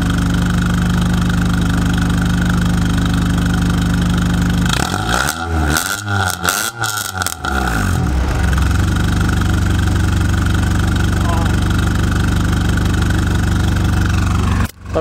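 A car engine, a bit low on oil and almost warmed up, idles steadily at close range, a low continuous rumble with a brief rougher, uneven stretch in the middle before settling back.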